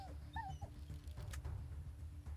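Dog Meat, a dog in the video game ATOM RPG, whimpers in a few short, high, rising whines near the start, set over a steady low game ambience hum.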